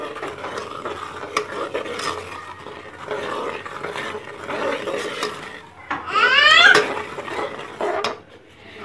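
Semolina roasting in ghee in a pan for halwa, with a spoon scraping and clinking against the metal in irregular, close strokes over a soft sizzle, plus one brief squeak and a fade at the end.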